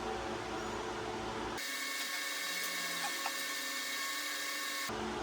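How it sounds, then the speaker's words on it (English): Car polisher with a polishing pad working a faded Lexus hood, a steady high whine that starts abruptly, holds evenly for a few seconds, then cuts off, loud and close with no talk. "I'm using a polishing pad"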